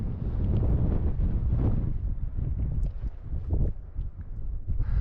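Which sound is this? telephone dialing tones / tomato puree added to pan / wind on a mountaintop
wind on a mountaintop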